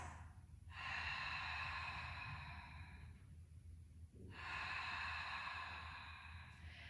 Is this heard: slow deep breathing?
yes